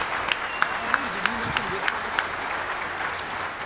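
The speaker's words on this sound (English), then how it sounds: "Give them a round of applause." Steady audience applause fills a large hall at the DEFCON 17 closing ceremony, a dense wash of clapping with a few distinct claps standing out, while a voice speaks faintly beneath it.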